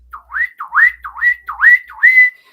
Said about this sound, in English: and I just do this whistle